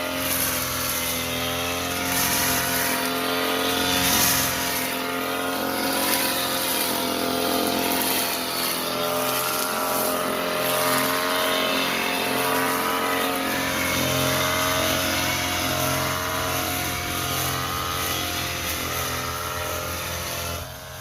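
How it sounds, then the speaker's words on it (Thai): A small two-stroke brush cutter engine drones steadily and loudly in a rice field, its buzzing pitch holding nearly constant with slight wavering, no voices over it. "เครื่องก็เป็นเครื่องตัดหญ้านะครับ"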